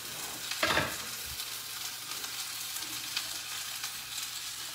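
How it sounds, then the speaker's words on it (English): Cashew chicken stir-fries in a pan, sizzling loudly and steadily close up, with a few brief scrapes and clatters from stirring and no talk. "Remember I told you, you want to maintain that sizzling."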